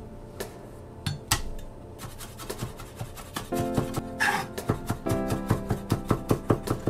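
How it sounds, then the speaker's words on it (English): Garlic cloves are minced with a knife on a board, sparse taps at first, then a quickening run of rhythmic chopping knocks over soft background music. "I'm going to mince those up"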